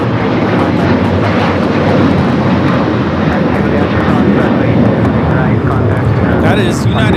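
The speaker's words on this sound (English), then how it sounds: "That is United Airlines 2086 taking off to Houston Intercontinental on the 737-900ER" A United Airlines Boeing 737-900ER takes off at a busy airport, its engines producing a loud, continuous roar that fills the whole stretch at close range, with a brief clatter near the end.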